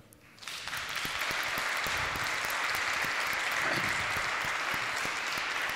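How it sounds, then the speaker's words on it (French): Audience at a forum bursting into applause, rising quickly from quiet to a full, even roar of many hands clapping that stays loud and steady throughout, with no voices over it. "Je pense que là aussi c'est le moment de l'applaudir."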